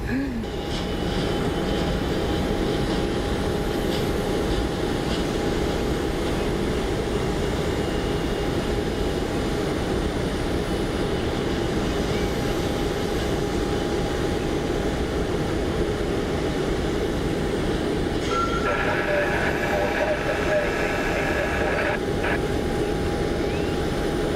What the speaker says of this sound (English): United Airbus A319 out of Chicago.